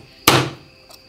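A single sharp metallic strike as a tool used as a hammer taps a punch while marking knife scales, close and loud with a quick decaying ring, followed by a faint small tap.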